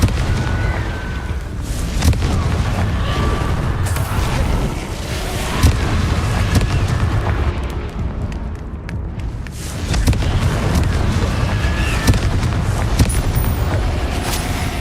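Booming explosion spell effects in the Hogwarts Legacy video game, heavy blasts and rumbling impacts piling up into a dense, loud, continuous roar with a brief lull midway.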